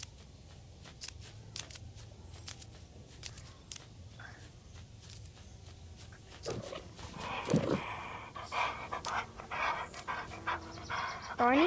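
A dog pants in quick rhythmic breaths close by, with shuffling movement and scattered clicks around it, growing louder and busier toward the end along with snorting and rustling.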